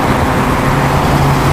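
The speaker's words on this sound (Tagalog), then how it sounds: "Napakaraming sasakyan ang dumadaan dito." Steady roar of highway traffic with many cars, buses and trucks streaming past, a dense continuous road noise at close to moderate distance with no breaks between vehicles.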